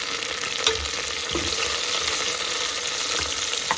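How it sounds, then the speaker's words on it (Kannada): Onions, green chillies and tomato fry in a pan for a chicken Ambur biryani, giving a steady, close hiss of sizzling oil with a few soft clinks of stirring and no talk. "ಹಸಿಮೆಣಸಿನ್ಕಾಯಿ ಹಾಕೋಣ, ಆಮೇಲೆ ಟೊಮೆಟೊ ಹಾಕೋಣ."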